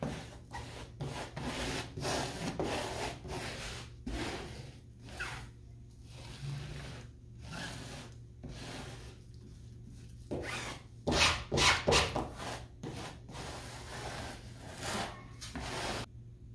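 Epoxy is spread with a squeegee across wooden longitudinals for a mini-cruiser sailboat build, producing continuous close rubbing and scraping strokes of varying length, some louder bursts, with no talking.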